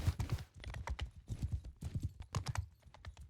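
Horse hooves clip-clopping in a multiplayer medieval combat video game, a steady run of sharp hoof strikes at close range with no talk over them.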